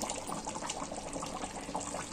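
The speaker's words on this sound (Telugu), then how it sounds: "కర్రీని గంటతో కాకుండా ఇలా చక్కగా కలుపుకోండి" Andhra-style fish curry (chepala pulusu) being gently stirred in a pot: a steady, wet, sloshing liquid sound that runs evenly throughout, close and moderately loud, with no voices.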